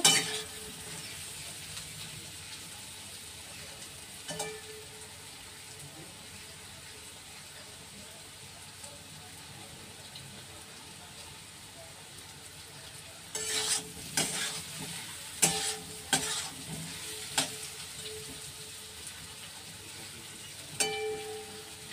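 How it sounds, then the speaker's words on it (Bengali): Spice paste fries in oil in a pan for an elephant foot yam curry, giving a soft, steady sizzle, joined later by a run of close scraping stirs and light utensil clinks. "আমার মশলা কষা হয়ে গেছে, তেল বেরিয়ে গেছে।"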